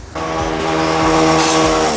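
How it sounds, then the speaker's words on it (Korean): Daelim VJF250 motorcycle with a 250cc engine on a test ride, revving loud and close with a steady, rising engine drone and strong harmonics after a brief quiet start, no talk. "250cc의 엔진을 장착을 하고 만 rpm 정도에서 최고 출력을 보여주는 이 엔진을 장착했기 때문에"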